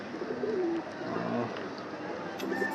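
Pigeons, let out of their cage together during heavy rain, coo in soft low repeated calls over a steady background wash, close by, with no talking.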